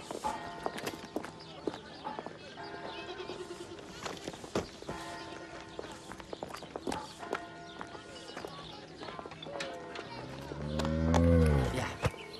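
A cow moos loudly near the end of a farm-scene stretch filled with hoof clip-clops, footsteps and background music, with a voice speaking at points before the low, drawn-out bellow.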